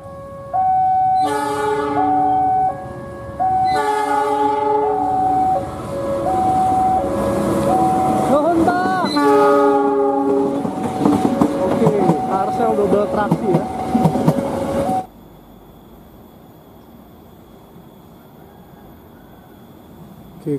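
The Lodaya passenger train rumbles past while its horn blares in repeated two-tone blasts, then the noise drops abruptly to a quiet hum; voices are briefly heard.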